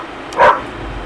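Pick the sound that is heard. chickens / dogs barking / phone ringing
dogs barking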